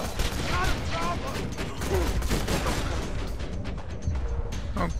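Turret gunfire in Borderlands 2 rattles in dense, rapid bursts with sharp cracks and mechanical clatter, loud and continuous throughout, with other game sounds and faint voices mixed in.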